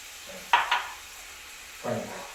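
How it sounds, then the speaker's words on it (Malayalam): A spoon scraping and clinking in a pan while stirring chicken sausage curry with curry leaves: two quick metallic knocks, then a softer scrape a second later, over a faint low sizzle. "എന്നിട്ട് ഇങ്ങനെ ഇളക്കിക്കൊണ്ടിരിക്കുക. കുറച്ച് വേപ്പിലിട്ട് കൊടുക്കാം കേട്ടോ."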